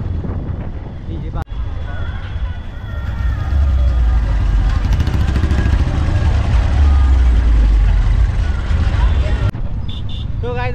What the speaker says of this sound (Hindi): इधर बहुत ट्रैफिक है